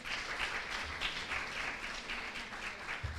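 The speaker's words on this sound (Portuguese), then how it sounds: "peço mais uma vez a salva de palmas" A lecture audience applauds a guest speaker after a talk, giving a continuous, even round of many hands clapping, somewhat distant and moderate in level throughout.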